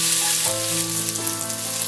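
Okonomiyaki batter sizzles steadily on a hot plate, a loud, continuous crackling fry with a few brief tonal hums over it.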